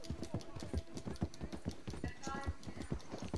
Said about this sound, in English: This is my horse.